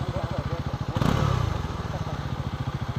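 A Bajaj Pulsar motorcycle engine idles close by with a fast, even, thumping pulse, briefly swelling in a short rev before settling back to a steady idle, with voices faintly in the background.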